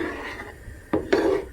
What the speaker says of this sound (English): Okay, so this is the little wooden spoon. I'll just mix it up all together.